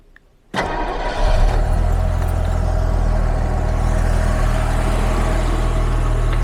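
Jaguar XJS engine cranks and catches on a hot start, then settles into a loud, steady, smooth idle heard close by with no talking.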